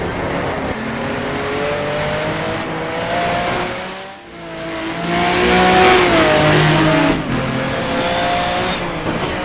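A race car engine in the rFactor racing game, VLN Series 2005 mod at the Nürburgring, revs loudly and continuously, its pitch rising and falling through gear changes with a brief dip mid-run.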